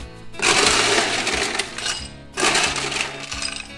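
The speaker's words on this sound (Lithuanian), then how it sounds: "Ok, tai pirmiausiai dedame daug ledo." A generous load of ice cubes tumbles into a glass for a Tequila Sunrise cocktail, two close, loud bursts of rattling, clinking clatter separated by a brief pause.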